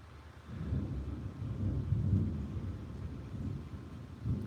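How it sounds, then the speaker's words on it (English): Distant thunder rolls in a long, low rumble that swells and fades over several seconds, faint and deep ahead of an approaching rainstorm, with no talking. "And the thunder rolls."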